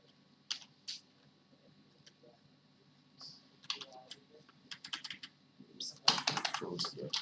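Fingers tap a computer keyboard while working in Mudbox 3D sculpting software, with scattered single keystrokes early on, then denser bursts of clicking that build into a rapid flurry at the end.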